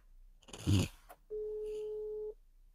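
Phone call placed through an aftermarket Carpuride CarPlay head unit fitted in a Lada estate: a short click and voice blip, then a single steady electronic tone held for about a second, clear and close.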